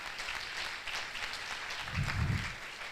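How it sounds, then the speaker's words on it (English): Faint, distant applause from an audience at a medical MBBS induction ceremony, a soft steady patter of clapping that swells slightly toward the end. "please clap for IMSG"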